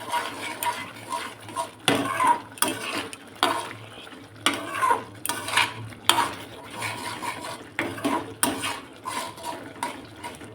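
Date and mango leather chutney being stirred in a pan with a spoon, giving repeated clinking scrapes against the metal in an uneven rhythm, close and fairly clear over a soft simmer.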